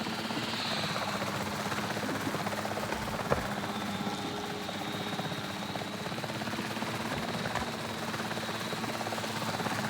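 A helicopter in Jurassic World Evolution 3 drones steadily with a constant rotor and engine roar, holding at an even loudness throughout with no talking over it.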